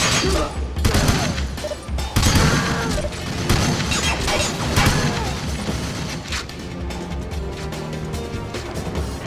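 Dense, chaotic gunfire from many enemies in the James Bond 007: Everything or Nothing video game, with bursts of automatic fire and crashing impacts running continuously at high loudness, a voice faintly talking beneath.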